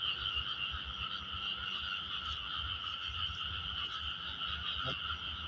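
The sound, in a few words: frogs croaking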